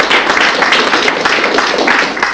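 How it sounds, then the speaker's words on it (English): Audience applause at a fan convention panel, a dense, steady round of clapping from a crowd in a hall, fairly loud and close throughout. "Big round of applause"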